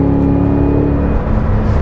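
A 682 hp Cadillac Escalade V engine pulls steadily under acceleration, a loud, continuous low droning roar heard from close by with no talking over it.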